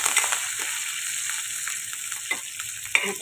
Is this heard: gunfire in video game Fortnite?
no